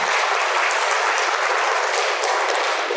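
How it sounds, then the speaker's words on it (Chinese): A full room of listeners at a traditional Chinese culture lecture claps loudly and evenly, a dense, unbroken wash of applause lasting a few seconds with no voices over it. "掌声鼓励。"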